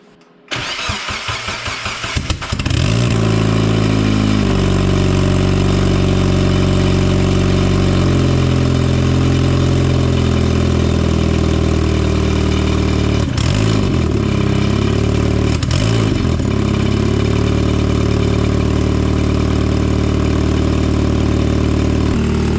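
Mazda Miata with an eBay turbo kit cranking briefly, then catching and settling into a loud, steady idle close by, with a couple of small rev blips along the way.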